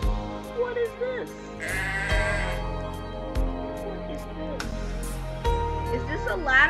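Goats bleating in a video game, several wavering cries overlapping above steady game music and sound effects, fairly loud and close throughout.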